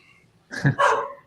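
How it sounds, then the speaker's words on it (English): A pet dog indoors lets out two quick, loud barks close by, the second longer, breaking an otherwise quiet room. "I hear a dog."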